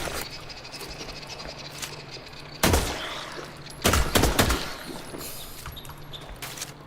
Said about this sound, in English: This is why I have to use my pistol to deal with them